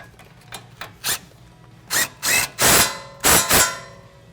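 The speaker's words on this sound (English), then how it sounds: "we're going to come back to the end link and just tighten this up with a 17mm socket" Power tool driving a 17mm socket to tighten a sway bar end link on a 2016-2020 Tacoma, heard as several short bursts of whirring, growing longer and louder toward the end.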